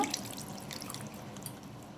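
Tamarind water pours and trickles quietly up close, with soft splashing and dripping sounds and no voices.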